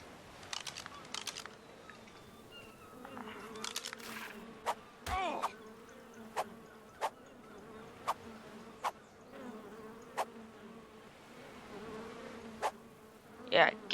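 Insects buzzing in a survival video game featuring an Argentavis and terror bird taming, a steady close droning hum with a few sharp clicks recurring at intervals.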